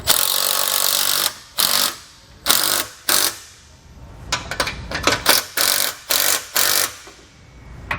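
Power tool rattling in short ratcheting bursts as it tightens the hitch bolts on a Blue Ox TrackPro weight distribution hitch, about a dozen loud close-up runs separated by brief pauses.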